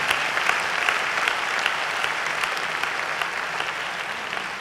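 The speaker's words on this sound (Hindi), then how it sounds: "एक बार दोनों हाथ उठाकर उन सब के लिए जोरदार तालियां बजाकर उन्हें प्रणाम कीजिए।" A large audience at a Kavi Sammelan poetry gathering in Howrah, hosted by a Lions Club, breaks into loud, sustained applause that fills the hall evenly from start to finish.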